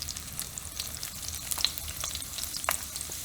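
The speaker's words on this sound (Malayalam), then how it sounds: "അനിയൻ്റെ കൂടെ തന്നെ നമുക്ക് വെളുത്തുള്ളിയും ഇഞ്ചിയും കൂടെ ആഡ് ചെയ്ത് കൊടുക്കാം." Onion, garlic and ginger fry in cooking oil with a steady, faint sizzle and a few light stirring scrapes close by, with no voices.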